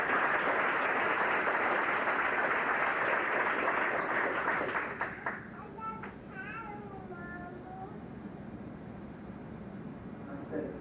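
Banquet audience at a 1993 Irish soccer awards dinner gives sustained applause, a dense wash of clapping that fades after a few seconds into quieter room noise with faint voices.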